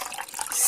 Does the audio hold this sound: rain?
no